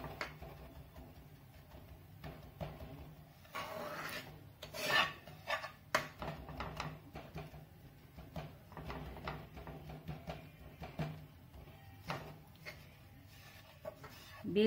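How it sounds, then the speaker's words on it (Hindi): Gram flour, or besan, roasts in a pan for Rajasthani onion paratha while a spoon stirs it, making a dry, raspy scraping and rubbing in uneven strokes, close and fairly quiet. "बेसन को चलाते रहें, बेसन का कलर चेंज होने दें।"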